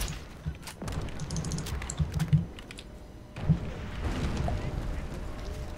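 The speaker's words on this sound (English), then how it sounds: "this is weird to drive with a keyboard." Computer keyboard keys clatter in short irregular bursts while a tank is driven in a World War II PC shooter, the taps moderately close amid game rumble and explosions.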